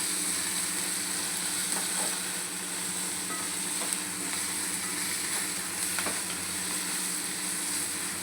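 Onion frying in a pan with salt as the base for prawn masala: a loud, constant close sizzle and crackle, with faint stirring ticks scattered through it and no speech.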